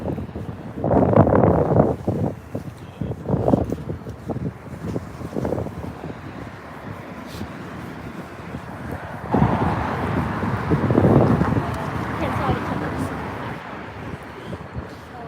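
Strong wind buffets the microphone in heavy rumbling gusts on a Friday evening in Washington DC, with a voice talking underneath the roar.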